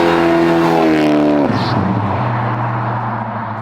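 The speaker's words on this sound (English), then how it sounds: "It's 3-inch stainless with the MagnaFlow just pass-through exhaust, and it sounds good." Supercharged Chevy Chevelle restomod V8 with 3-inch stainless MagnaFlow pass-through exhaust, loud and close, revving up to a strong rising tone then dropping sharply to a deep, steady rumble.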